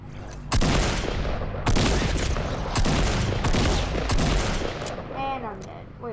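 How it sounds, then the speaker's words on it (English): Repeated loud gunfire from the video game Fortnite, several sharp bursts of shots in quick succession with heavy echoing booms, filling most of the stretch before a brief quieter tail. "If I shoot it once, it won't get killed."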